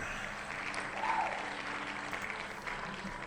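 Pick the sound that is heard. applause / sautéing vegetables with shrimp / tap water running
applause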